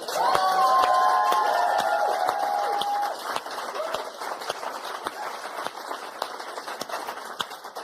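Audience at a charity volunteer awards ceremony hosted by a comedian, with loud crowd cheering, whoops and clapping that peak at the start and gradually settle into lighter sustained applause.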